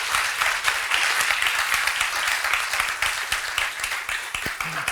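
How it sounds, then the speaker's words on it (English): Moderate round of audience applause for a discussion panel at a center event, steady scattered clapping from a seated crowd, fairly soft and continuous. "how about a great round of applause for this fabulous panel?"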